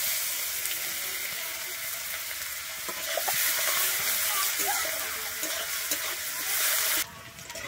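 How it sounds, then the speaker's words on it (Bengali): Chopped onions sizzle steadily in hot oil after dry red chilli and five-spice seeds, a dense close crackle with occasional stirring scrapes, dropping in intensity near the end. "আমার পেঁয়াজটা ভাজা হয়ে গেছে"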